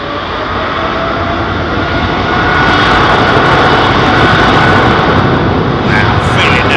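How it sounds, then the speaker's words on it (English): A Boeing 777-200 airliner departs for Chicago at London Heathrow, a loud, steady broadband jet engine roar that swells slightly and holds throughout, with a voice talking over it. "this 777-200 off to Chicago"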